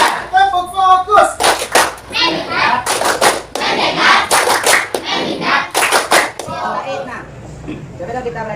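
Students in a classroom clap their hands in a counted rhythm pattern, loud close bursts of clapping grouped between short stretches of children chanting along with a teacher.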